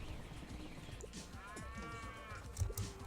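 Cows moo in the Pizza Tower video game, one drawn-out call rising and falling over a busy, steady wash of game sound.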